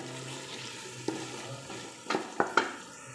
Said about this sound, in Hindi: आलू मटर मेरे जो हैं वो हो रहे हैं फ्राई